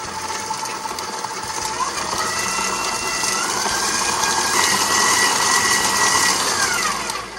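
Stand mixer fitted with a flex blade beats flour and cocoa, giving a steady, loud motor whir that holds and rises slightly before easing off near the end.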